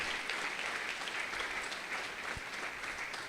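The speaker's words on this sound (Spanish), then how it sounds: "Denle otro gran aplauso a nuestro Rey," A church congregation at a Sunday service gives a big round of applause for the King, a continuous, full clapping filling the room, steady throughout with a brief low thump partway.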